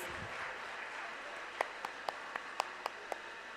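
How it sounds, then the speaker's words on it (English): Applause at a university foundation day and awards ceremony for a vice chancellor: a soft, distant wash of clapping with a few sharper, closer claps standing out near the end, no talk over it. "Can we have a round of applause for Professor Pandit, please?"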